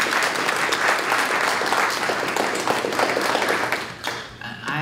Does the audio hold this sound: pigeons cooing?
no